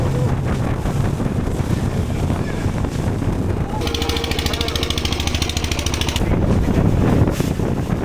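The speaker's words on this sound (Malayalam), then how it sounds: "ഈ സ്പീഡ് ബോട്ട് അടിപൊളിയാണ്" A speed boat races across Ha Long Bay in Vietnam, with heavy wind buffeting the microphone, a roaring rush of water and engine, and a steadier droning stretch in the middle.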